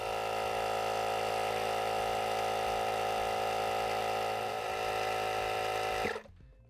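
A Worx WX092 cordless inflator pump runs steadily while filling a tyre, giving a loud, even motor drone that holds for about six seconds and then cuts off abruptly.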